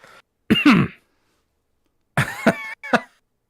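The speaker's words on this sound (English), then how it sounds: "I got a cough, man." A man coughs and clears his throat in two close, dry bursts separated by silence.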